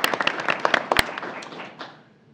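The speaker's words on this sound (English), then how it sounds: "A round of applause for his family who's in attendance this evening." A school board meeting audience gives a brief round of applause for an Eagle Scout's family, a dense burst of clapping that fades out after about two seconds.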